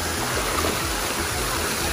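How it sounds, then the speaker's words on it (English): Water squirting up from fountains at a water park makes a continuous, loud rushing and splashing wash, steady throughout, with low rumbling underneath and no voices standing out. "Oh, it squirts up. Look, they all squirt up."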